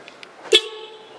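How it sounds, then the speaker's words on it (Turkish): A single short car horn chirp from an aftermarket central-locking horn module sounds close by as the doors lock, preceded by a couple of faint clicks, with a brief ringing tail. "biz kapı kilitleyince dıt yapsın"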